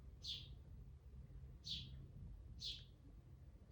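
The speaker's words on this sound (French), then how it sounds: "Vous l'entendez cet oiseau?" Three short, bright bird calls, evenly spaced about a second apart, ring out fairly clearly outdoors over a low, steady background rumble.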